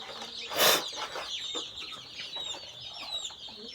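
A hen clucks softly in short, irregular calls, fairly close, with a brief loud rustle near the start and no one talking.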